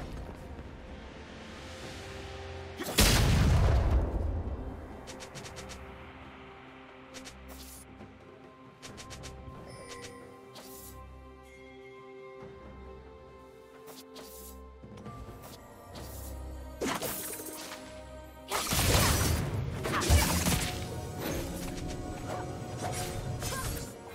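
A turret collapsing in League of Legends, a heavy crashing smash followed by shattering debris, then a second large crash later, loud against a busy backdrop of game effects.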